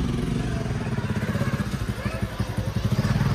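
A motorcycle rolls out through a big house gate, its engine chugging in a close, uneven idle with rhythmic pulses and some clatter, as someone talks over it.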